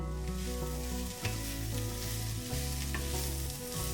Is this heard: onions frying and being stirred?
yes